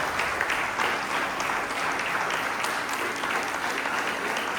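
Sustained applause from a church congregation during a worship service, steady and dense throughout with no speech over it.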